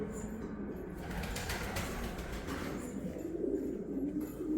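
Soft cooing of pigeons in an enclosed coop, low murmuring calls overlapping with faint mechanical hum and rustling.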